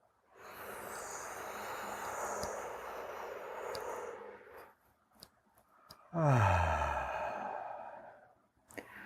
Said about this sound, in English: If I want calm and peace, I breathe calm and peace.